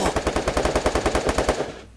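Rapid automatic gunfire in the Free Fire video game, a fast evenly spaced burst of about a dozen loud shots that stops abruptly and fades into a short tail.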